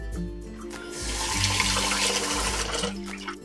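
Water pours steadily from a tap into a pot of washed glutinous rice for Cantonese sticky rice with Chinese sausage and mushrooms, a continuous close rushing splash lasting several seconds with no talking.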